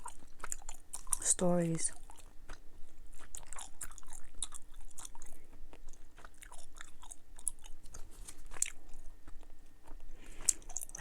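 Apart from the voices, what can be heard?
chewing Dubble Bubble watermelon and strawberry bubble gum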